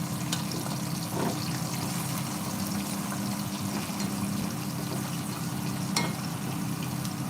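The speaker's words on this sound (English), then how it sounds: "We're gonna let it fry for like about 5 minutes and then take it out." Ghana yams fry in a pan while lamb chops cook nearby, a steady, close bubbling sizzle with occasional faint clicks, and no talk.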